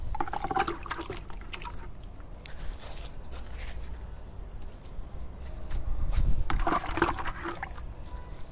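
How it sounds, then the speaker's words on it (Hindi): Water is poured onto potting soil mixed with vermicompost and cocopeat, giving irregular splashing and trickling bursts that swell louder near the end, with no talk. "इस तरह से आप इसको पानी दे दो बस।"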